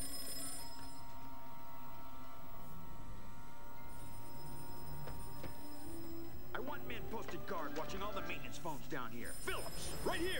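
A telephone rings in the Enter the Matrix video game on PS2, a faint repeating electronic tone under steady game ambience, followed by a voice talking in the game.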